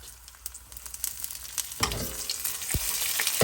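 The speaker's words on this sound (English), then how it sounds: "That's splattering away nicely." Jeera, methi, mustard and fennel seeds splatter and crackle in hot oil, a soft sizzle that bursts into a louder, denser popping partway through and keeps crackling close by.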